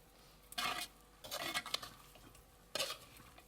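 Spicy chicken being stirred in a pan with chopped coriander leaves, three distinct scraping bursts of spoon against metal with a light sizzle underneath, close and fairly loud, no talking.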